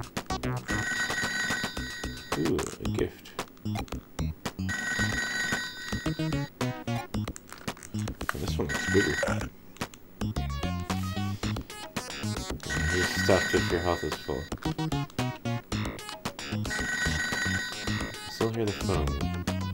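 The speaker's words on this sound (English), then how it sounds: "Still hear the phone." Electronic telephone ringtone from a video game, repeating in regular bursts under steady game music and sound effects while someone talks over it throughout.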